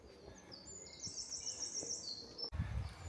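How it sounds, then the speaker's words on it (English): Vagrant red-breasted flycatcher singing overhead outdoors in Scotland, a clear high thin warbled phrase lasting over a second, then a soft bump and low rumble nearby. "This is a vagrant red-breasted flycatcher"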